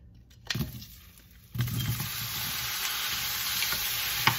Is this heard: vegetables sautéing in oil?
yes